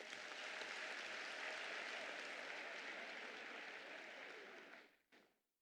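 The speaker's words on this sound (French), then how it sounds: "Applaudissons-les." Sustained audience applause at an extraordinary party congress of the PDCI-RDA, a broad even roar of many hands clapping that holds steady, then tapers off quickly near the end.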